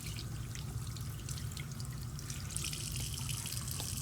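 Water runs steadily from a sink tap as hands are rinsed, a continuous close splashing and trickling with small drips, no voices.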